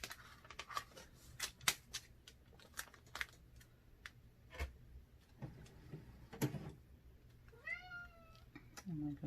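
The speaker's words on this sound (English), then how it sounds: "My cat and just came all up in the room. It just started meowing." A house cat meows a couple of times up close near the end, after a stretch of sharp snipping and tapping from vinyl and wax-paper crafting work.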